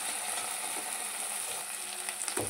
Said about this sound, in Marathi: आता आपण त्यामध्ये टाकूया टोमॅटो, त्यात तळून घेऊया।